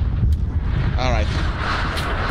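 Artillery barrage rumbling in the Vietnam War shooter Rising Storm during an attack on Saigon, a continuous low booming wash of distant shellfire with no clear single blasts, carrying on steadily throughout.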